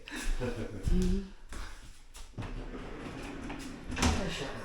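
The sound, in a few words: new doors being shut in a renovated house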